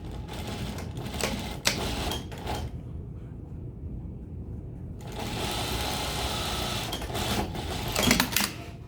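A sewing machine stitches a zipper facing for a bustier with lapped, open-ended zippers, running in steady rapid bursts with a short pause midway, close and alone.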